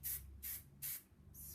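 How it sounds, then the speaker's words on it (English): Big and Sexy hairspray misted onto a dancer's hair bun in four short hissing bursts, evenly spaced and close up, with no talking. "I'm going to use my favorite hairspray"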